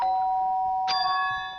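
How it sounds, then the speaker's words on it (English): A Danganronpa 2 doorbell chimes in the game, sustained electronic tones ringing before a second bright ding strikes and lingers, clear and close with no voices. "Oh, the doorbell?"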